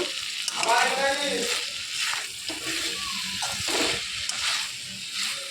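Banana flower with prawns frying in a pan, a soft steady sizzle broken by stirring scrapes and clinks from the utensil.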